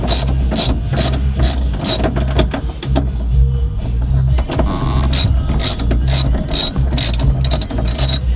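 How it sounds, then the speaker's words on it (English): Ratchet wrench backing out a 14mm lower seatbelt bolt inside a Toyota Tacoma cab, loud rapid clicking in steady bursts close to the listener, with brief pauses between strokes. "The thing we're going to do is remove the seatbelt, the lower seatbelt bolt."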